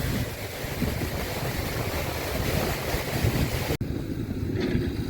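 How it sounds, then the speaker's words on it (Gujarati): Water flows steadily in a stream in Gir forest, a dense, continuous rushing wash mixed with wind buffeting the microphone, fairly loud and unbroken, with a short dropout near the end. "પાણીનો અવાજ એટલો બધો મસ્ત છે કે તમને એમ લાગે કે આઈને બેઠા રહી"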